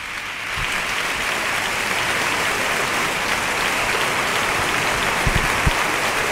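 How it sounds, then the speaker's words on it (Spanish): A large theatre audience gives sustained, dense applause after a Semana Santa proclamation speech, a steady roar of clapping that holds evenly from start to finish with no talk over it. "Y llega el gran aplauso porque se dirige al centro de las tablas."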